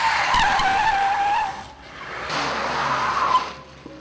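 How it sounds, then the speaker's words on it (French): Loud screech of car tires skidding on pavement, a sustained squeal that fades, then a second squeal with engine rumble underneath. "le bruit des pneus sur l'asphalte."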